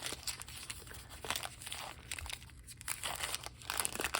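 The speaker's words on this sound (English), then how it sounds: "We can already hear the paper." Rough Ryder Reserve paper wrapping on a knife crinkles and rustles close up, with scattered crisp crackles and soft tearing sounds continuing throughout, with no voices.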